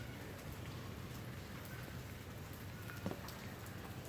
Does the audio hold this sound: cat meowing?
no